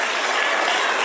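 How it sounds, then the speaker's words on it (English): An audience breaks into a brief, dense burst of applause that lasts about a second, loud and uniform with no talking. "Applause, please."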